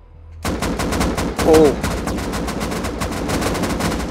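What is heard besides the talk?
gunfire in a video game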